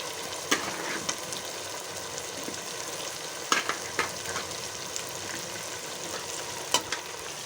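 Turnip fries with chicken in a pan, a constant sizzle close by, punctuated by a handful of sharp spatula knocks and scrapes as it is stirred, with no talking.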